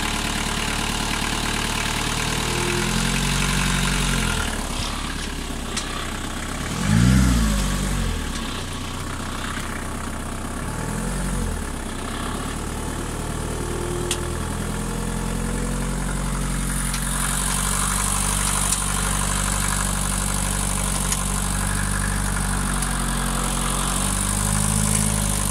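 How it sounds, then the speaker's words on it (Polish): An orchard platform mounted on a Ladog municipal vehicle chassis, its engine under repair, runs steadily while creeping forward at minimum speed, a continuous close mid-low drone that swells briefly as throttle is added. "Dodajemy gazu i powoli nam się jedzie."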